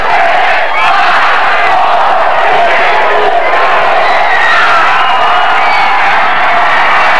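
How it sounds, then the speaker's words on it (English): A capacity crowd of Hobart fans roars at the NCAA Division III lacrosse championship, a loud, dense wall of cheering, shouting and whoops with chanted voices that holds steady from start to finish. "Let's pick up the countdown by the Hobart fans"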